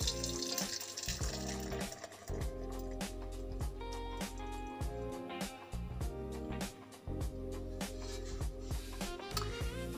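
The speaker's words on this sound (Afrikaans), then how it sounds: "Nou giet ons hom in die bak in." Ice-cold koeksister syrup poured from the fridge into a bowl, a close, trickling liquid stream running steadily for several seconds.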